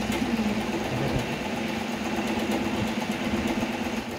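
An Usha Janome Wonder Stitch sewing machine runs steadily, a continuous close motor hum with a constant pitch and no pauses, and no voices.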